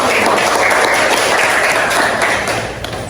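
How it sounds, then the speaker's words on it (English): A classroom of students claps for a classmate after a presentation of a procedure text during a 10th-grade English microteaching lesson, with dense, steady clapping that holds throughout and tapers slightly at the end. "Okay, give applause for Sally."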